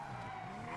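A car drifts in the Grand Theft Auto roleplay video game, its tires squealing in one steady, sustained skid under a continuous engine drone, heard alone without talk.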